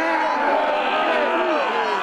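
A large crowd at a downtown pirate parade roars and shouts together in one loud, sustained wash of many voices.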